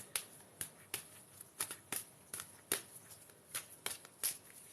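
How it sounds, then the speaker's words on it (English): A deck of tarot cards is shuffled by hand in a string of quick, crisp riffling bursts at uneven intervals, close and fairly quiet, with no talking. "So I'm just giving these a good old shuffle"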